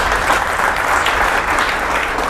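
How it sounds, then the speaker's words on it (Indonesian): An audience bursts into applause at a talk show with an Indonesian army chief of staff, a dense, loud, continuous clapping that fills the whole moment. "Oh, tepuk tangan."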